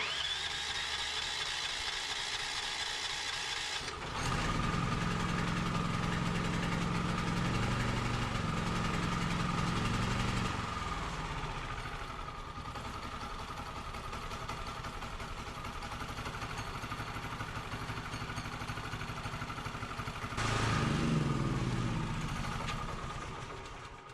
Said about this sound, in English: I want to start the engine, make sure it's running good